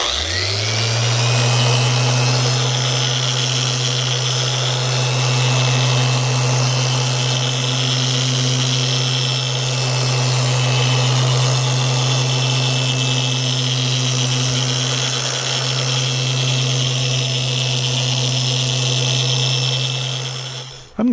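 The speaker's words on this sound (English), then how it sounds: "watch 10 minutes of me running this polisher back and forth" A polisher doing paint correction on a 2022 Indian Pursuit motorcycle hums steadily at close range, its motor tone holding level and whining for the whole stretch before cutting off at the end.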